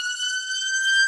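An ambulance siren sounds in the distance as a steady, sustained high tone for about a second. It holds a fairly even level and has no talk over it.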